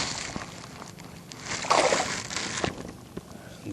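A small fish is dropped back into open water from a fishing spot, giving a brief, soft splash and slosh close by, set against a steady outdoor wash of water and wind.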